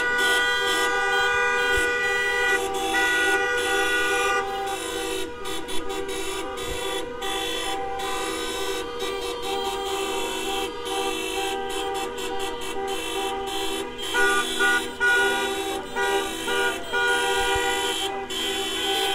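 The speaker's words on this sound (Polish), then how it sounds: "huk klaksonów jest tak wielki" Dense, continuous honking from many car horns at a women's street protest in Białystok, overlapping blasts sounding loud and close throughout, with no talking heard.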